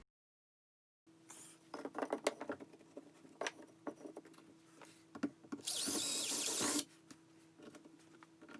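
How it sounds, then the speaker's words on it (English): A power drill boring holes and driving screws into plywood during a drywall hole repair, heard as a few short bursts and taps, then a steady, loud whirring run of about a second. "Drill a couple holes, put in a couple of screws"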